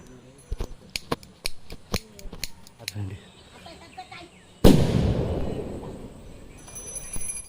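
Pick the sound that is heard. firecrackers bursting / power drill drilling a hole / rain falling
firecrackers bursting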